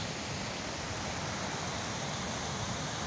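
River Achín flowing through a gorge, a steady, broad, hissing rush of water heard at moderate distance, continuous and unchanging.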